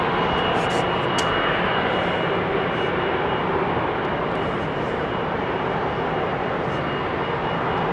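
A jet airliner departing runway 27R at London Heathrow produces a steady, broad engine roar that fills the whole stretch at an even, sustained level with no other sounds.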